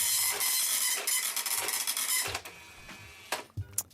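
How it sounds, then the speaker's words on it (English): A vintage computer printer runs with a loud, dense mechanical buzzing and rattling print head in rapid bursts, then stops. Sharper clacks follow near the end with no talk. "This is what a printer used to sound like."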